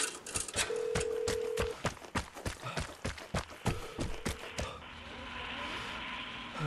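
In the video game Vigor, an in-game phone call signal plays as a steady electronic tone among a rapid series of sharp, loud bangs. The texture thins into a softer, hissy background near the end.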